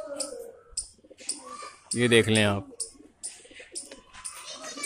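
Pigeons coo softly around a loft of Punjabi flying pigeons, with a brief burst of fluttering wings in the middle while someone talks over the birds.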